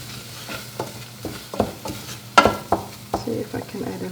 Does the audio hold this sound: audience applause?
no